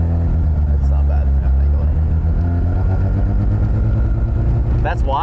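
A Mazda R100, a light old-school rotary car that revs to 10,000 rpm, runs loudly and steadily throughout, its deep droning engine note rumbling close by with voices talking briefly over it near the end.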